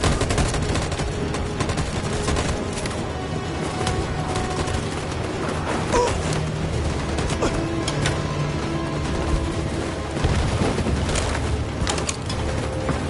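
Continuous gunfire in Detroit: Become Human after an order to fire, a dense, loud barrage of rapid overlapping shots and mechanical clatter sustained from start to finish with no pause.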